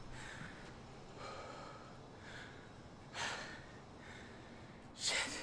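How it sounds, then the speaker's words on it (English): Heavy breathing follows a swimming-themed Zumba workout, with several close, breathy exhales and gasps at uneven intervals, including two louder sharp puffs near the end. "Still breathing hard, hold on."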